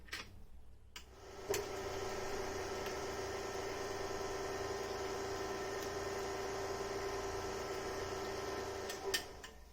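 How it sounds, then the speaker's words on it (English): An electric stand mixer whips cream flavored with a few drops of vanilla extract, running as a steady, even whir with a constant tone for several seconds after starting up, with no talking over it. "I'm going to lower the mixer and mix everything until I get a fluffy cream."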